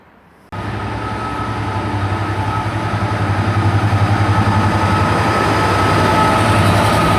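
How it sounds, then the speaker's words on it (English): A freight train led by locomotive 66721 rolls through a station, its steady heavy rumble and droning engine starting abruptly and then holding loud and constant, with the rhythmic clatter of wagons over the rails growing throughout. "passing through is a freight service, also to Felixstowe North, led by 66721"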